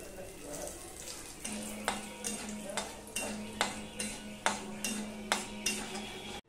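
Cumin seeds with two cardamom pods and two pieces of cinnamon tempering in hot oil, a low steady sizzle punctuated by regular sharp scrapes and taps of a spoon against the pan, close and moderately quiet.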